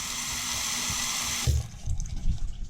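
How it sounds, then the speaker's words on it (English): Tap water runs into a bathroom sink and drains away for a few seconds, a steady bright rush, then cuts off to gurgling and trickling in the drain. "Then you can also just run some water down it."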